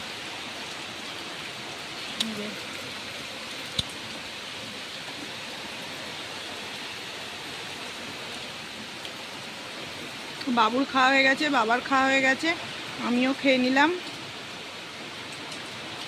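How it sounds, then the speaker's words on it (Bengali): Heavy rain hisses steadily in the background while a person talks for a few seconds near the end. "এখন ঝেঁপে এসেছে বৃষ্টি"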